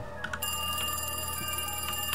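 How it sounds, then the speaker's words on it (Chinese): A telephone rings in a horror video game, a steady electronic bell tone repeating over a constant droning ambience, fairly loud and without voices. "电话来了"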